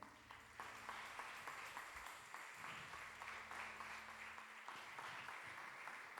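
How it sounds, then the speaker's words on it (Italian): Church congregation at a worship service claps together, faint steady applause with a low hum of music or tones underneath. "Possiamo fare un applauso al Signore?"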